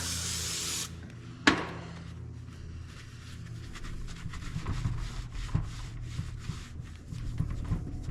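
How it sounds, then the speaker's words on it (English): Brake cleaner sprayed onto a hydraulic cylinder rod during a 500C cylinder rebuild: one loud hissing burst at the start, then a short sharp knock, followed by quieter rubbing and wiping noises. "it looks like I just went over top of that seal, that brand new seal with brake clean"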